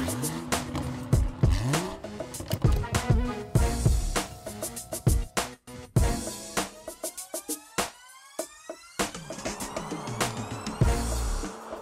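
A 2018 BMW X3 M40 with a 3-liter inline-6 engine accelerating and revving in bursts, with tire noise and passing engine surges, fairly close, mixed with other edited sounds.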